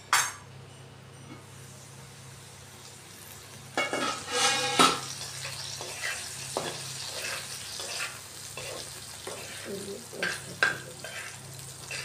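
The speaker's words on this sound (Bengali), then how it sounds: "আলুগুলি আমাদের মোটামুটি ভাজা হয়ে গেছে।" Potatoes fry in a pan with a soft, continuous sizzle, broken by bursts of utensil scraping and clinking against the pan. Nobody speaks.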